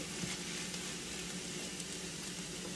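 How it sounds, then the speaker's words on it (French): Cod pâté filling with spices simmering and sizzling steadily in a pan, a constant dense bubbling hiss with no talk. "Là, je laisse mijoter quelques minutes."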